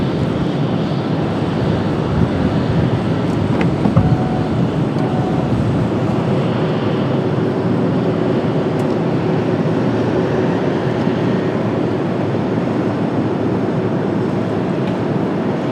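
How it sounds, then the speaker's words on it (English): A United Boeing 767 heavy jet lands on runway 19 left at Washington Dulles on a cloudy day, a loud, steady broadband roar that holds for the whole stretch, with no voices. "We've got a heavy over on 19 left. That's 767"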